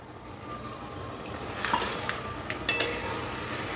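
Prawns, already fried, being stirred into a coconut milk gravy in a pot, giving soft wet stirring with a few light clinks of a utensil against the vessel near the end, close and fairly quiet.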